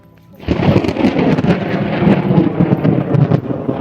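A loud, deep rumble of thunder rolls in suddenly and keeps growling for several seconds, with rain faintly underneath, over rice fields.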